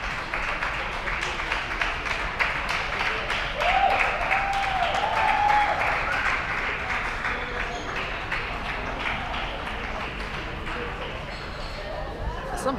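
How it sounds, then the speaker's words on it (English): A crowd applauds inside an airport in Christchurch, a steady patter of clapping that runs on for several seconds, with voices murmuring underneath. "those two are gaining applause for leaving"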